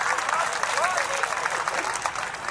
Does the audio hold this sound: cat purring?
no